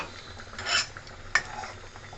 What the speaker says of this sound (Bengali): ভালো করে নেড়ে আর একটু ফুটিয়ে নেবো